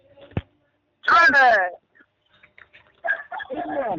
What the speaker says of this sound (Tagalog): Pati aso. Sumasabay.